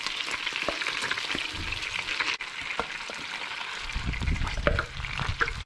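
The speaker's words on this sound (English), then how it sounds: "I'm just going to take my paste now and throw it in to the wok." Curry paste for a chicken and strawberry korma sizzles and spits steadily in a hot wok, a dense continuous frying hiss with occasional stirring scrapes and small pops, close and without talk.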